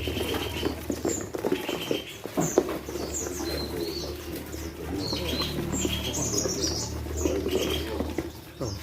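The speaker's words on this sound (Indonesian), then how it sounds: "Oh, ini ada perenjak tebu nih." A perenjak tebu (prinia) flutters inside a cage at a bird shop, giving repeated soft wing-flapping bursts and patters with scattered high chirps from nearby birds, with no talk.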